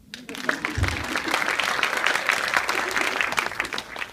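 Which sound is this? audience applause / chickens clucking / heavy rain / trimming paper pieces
audience applause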